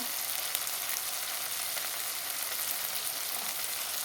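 Rice frying in a pan with salt, turmeric and chili powder gives off a steady, even sizzle at moderate loudness, close and continuous with no voices.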